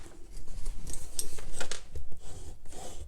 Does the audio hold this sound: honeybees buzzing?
no